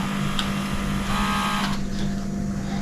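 A vacuum cleaner runs in a home with a steady mechanical drone and a whining motor tone, its pitch shifting slightly partway through.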